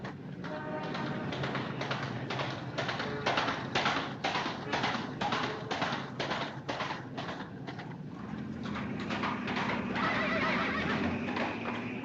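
A man imitates a horse with a long, loud, rhythmic whinnying neigh that goes on for several seconds and sits close to the microphone.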